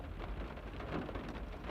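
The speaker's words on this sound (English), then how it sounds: "I just want to apologize if you guys can hear rain." Steady rain falls outside a car parked by a house, a soft, continuous patter of drops on the body and glass with no voices.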